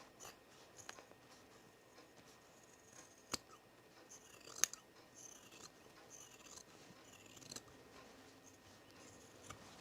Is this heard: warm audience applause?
no